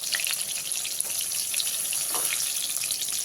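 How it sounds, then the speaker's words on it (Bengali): Sliced eggplant frying in hot oil for shukto, a Bengali mixed-vegetable dish, with a steady, close crackling sizzle that carries on without pause and no talk over it. "বেগুনটা ভাজা হয়ে গেছে বেগুনের গায়ে একটা লালচে কালার চলে এসছে"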